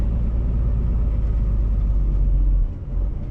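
A car drives along a road to the port before dawn, its engine and tyre rumble forming a low, steady drone that briefly dips near the end; no one speaks.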